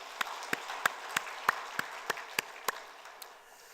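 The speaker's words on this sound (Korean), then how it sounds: "박수로 축복하겠습니다." About ten claps land in a slow, even beat in a reverberant room, fading out at the end.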